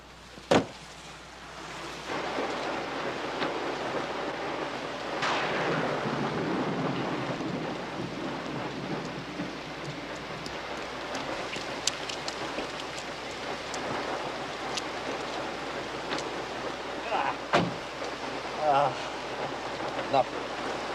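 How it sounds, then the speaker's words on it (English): Heavy rain pours steadily with rolling thunder, a sharp crack near the start and more distant rumbles later, a constant hiss of downpour throughout. "You don't like driving in heavy rain."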